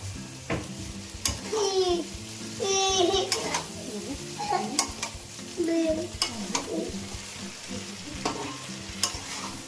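Pasta is stirred in a pan over a low gas flame, with soft scraping and a gentle frying sizzle and occasional utensil taps, while a voice babbles and chatters over it.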